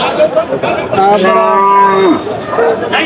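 A large cow gives one long, loud moo lasting about a second, close by, amid a busy outdoor background of crowd noise at a cattle market in Chaugachha, Jessore.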